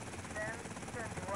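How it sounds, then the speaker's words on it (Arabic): A helicopter in GTA Vice City drones with a continuous whirring rotor hum, steady and fairly loud, with a voice talking over it. "الطيارة دي مزعجة اوي"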